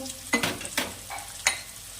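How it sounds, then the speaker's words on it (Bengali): Spice paste of ground turmeric, cumin and chili with ginger and onion paste frying in a pan, with a few distinct scraping stirs over a faint sizzle, close and fairly quiet, no talk. "এবার মশলাটা ভালো করে কষিয়ে নেব"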